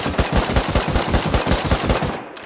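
Automatic gunfire in the video game Rust during a raid on a shack, a rapid, loud, close burst of about a dozen evenly spaced shots that stops abruptly near the end.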